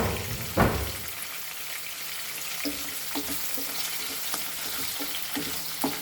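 Squid fries in a pan with Goan xacuti masala: a steady hiss of sizzling fat with occasional soft scrapes of a spoon stirring, close and continuous, with no talking.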